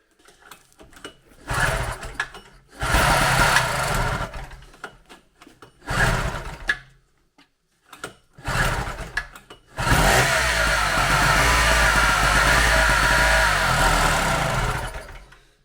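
A small two-stroke generator engine sputters in short bursts, cutting out between them, then catches and runs steadily at a loud, buzzing idle as the choke is turned off.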